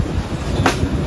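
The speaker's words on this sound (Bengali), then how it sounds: "তিস্তা জংশনে মাত্র 1 মিনিটের ছোট্ট একটি যাত্রা বিরতি শেষ করে আমাদের ট্রেন আবারও বেরিয়ে যাচ্ছে তার গন্তব্য স্টেশন সান্তাহারের দিকে।" Korotoa Express pulling out of Teesta Junction, a low steady rumble of the train moving off with a brief hiss of noise in the middle, no voices.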